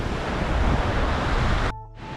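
Loud, continuous rushing water of the Chor Chaudi waterfall roars close by, then drops away abruptly near the end.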